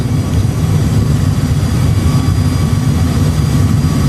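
An Airbus A320 rolls out after landing with reversers engaged, giving a loud, steady roar of jet engines and a heavy low rumble that fills the cabin without pause.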